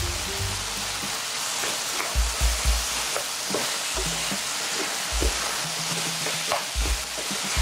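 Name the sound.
stir-frying potatoes and pork with gochujang in a pan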